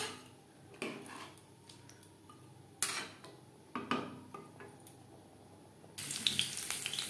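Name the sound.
spice-rinsing water poured into the pan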